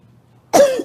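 A single short, sharp cough, close and loud, after near silence.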